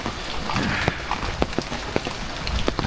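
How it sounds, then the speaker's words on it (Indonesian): Heavy afternoon rain falls in a village, a dense, steady hiss with scattered sharp drips and taps striking nearby surfaces, loud and continuous throughout. "di suasana sore ketika lagi turun hujan"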